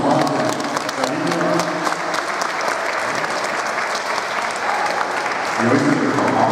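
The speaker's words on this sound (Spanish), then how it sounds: "vamos a dar un fuerte aplauso a sus campañas" Sustained audience applause fills the space, a dense, even wash of many hands clapping at close range, with a few voices rising underneath toward the end.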